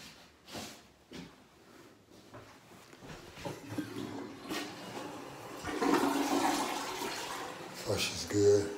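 A toilet in a house bathroom flushes, a rising rush of water that swells and gurgles toward the end, preceded by a few clunks and footsteps, with someone speaking briefly.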